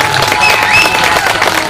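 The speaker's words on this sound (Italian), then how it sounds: "Un bel applauso ai nostri" A crowd at a town fair applauds and cheers for cowboys, a short burst of loud, close clapping with a faint whistle and voices mixed in.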